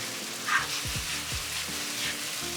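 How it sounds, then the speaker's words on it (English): Lily bulb and beef tendon sizzle as they are stir-fried in thickening sauce, a soft steady frying hiss with a few scraping stirs. "Stir fry until the sauce gets thicker."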